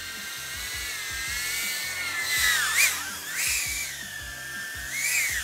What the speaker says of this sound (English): Prop noise.